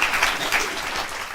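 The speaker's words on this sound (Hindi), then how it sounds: "जोरदार तालियां हो जाएं एक बार पंकज जी के लिए।" An audience claps for a poet at a Hindi poetry recital held in a mother's memory, a short, moderately loud burst of many hands clapping together.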